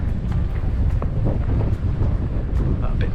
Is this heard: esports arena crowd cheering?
no